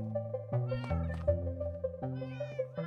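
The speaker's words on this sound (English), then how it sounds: "Look at my little cat army." A group of Minecraft cats at a cat café, meowing repeatedly in overlapping, tonal calls, close and clear with no talk.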